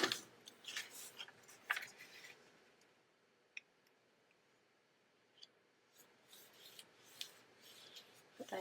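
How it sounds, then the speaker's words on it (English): Tape runner laying adhesive onto paper card stock during card making, heard as a few faint, brief rasping rubs and light ticks spread across a quiet stretch. "I'm going to use my regular tape runner adhesive"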